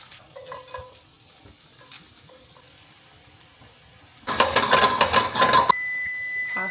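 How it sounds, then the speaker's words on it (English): Garlic hits hot olive oil and bursts into a loud, crackling sizzle with stirring noises, coming after a few seconds of quiet kitchen clinks and knife sounds. "Olive oil and cook the garlic."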